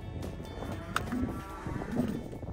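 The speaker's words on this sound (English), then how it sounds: "you'll have heard the calves and the cows mooing away in the background" Cows and calves low faintly in the background, a couple of short moos over a busy, rumbling ambience.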